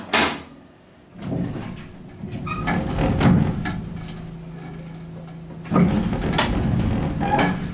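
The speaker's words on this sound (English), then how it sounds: "Instant door close." A Penn City hydraulic elevator door in a Haddonfield, New Jersey building slides shut with a rumbling rolling motion and a steady hum, followed by a thud as it closes, then further mechanical rumble.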